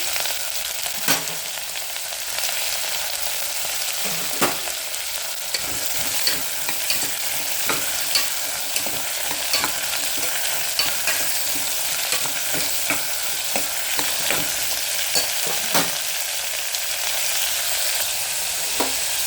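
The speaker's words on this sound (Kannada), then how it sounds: "ಈಗ ತರಕಾರಿ ಎಲ್ಲ ಬಾಡಿಸ್ಕೊಂಡ್ನೇ" Four kinds of vegetables stir-fry in a pan for a pulao, giving a continuous close sizzle. Regular spoon scrapes and stirring clinks punctuate it, with no talking.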